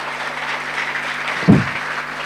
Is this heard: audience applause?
yes